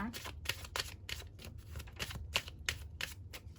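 Angel oracle cards being shuffled close by, a quick series of soft riffling snaps repeating about three times a second, fairly quiet.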